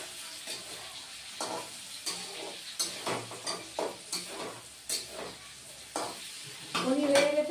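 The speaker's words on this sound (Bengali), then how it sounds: "এদিকে বসিয়ে দিয়েছি ভাজা পনির" Paneer pieces fry in a pan with a faint sizzle and repeated soft taps and scrapes of stirring. The sound grows a little louder near the end.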